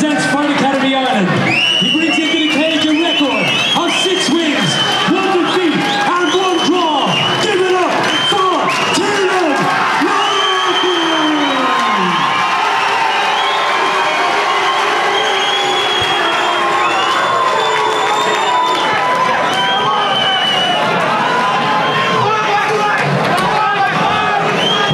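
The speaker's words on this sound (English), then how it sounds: "I think the crowd are up for this one." A large crowd at an amateur featherweight cage fighting bout roars, cheers and shouts continuously, loud and close, while an announcer's amplified voice calls out over the noise.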